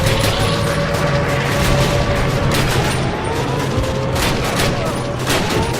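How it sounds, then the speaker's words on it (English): Dense, continuous gunfire and explosions fill a Call of Duty 1 battle, with rapid overlapping shots and booms, loud and sustained throughout, and a voice talks over the combat. "Where's that explosion?"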